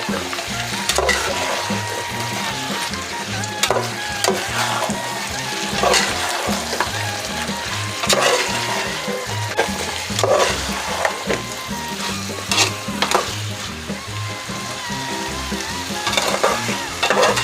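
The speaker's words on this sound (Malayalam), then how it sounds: "ഇതിലേക്ക് നമ്മൾ വേവിച്ച് വെച്ച ചിക്കൻ ചേർക്കാണ്. ഇതിന് നല്ല ഇളക്കുക." Cooked chicken is stirred in a hot pan for a Kerala coconut chicken dish, with a loud continuous sizzle and frying crackle and repeated scraping stirs throughout, close up.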